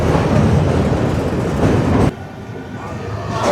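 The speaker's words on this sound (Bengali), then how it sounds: "ওই দিক থেকে একটা ট্রেন পাস করছে" A passing train rumbles loudly nearby on the Mahanadi bridge near Cuttack, with steady rolling rail noise that drops off sharply midway as the cars clear, then builds again, heard from aboard another moving train.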